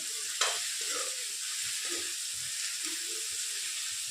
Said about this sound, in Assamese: এইখিনি মই অলপ ৰঙচুৱাকৈ ভাজি ল'ম।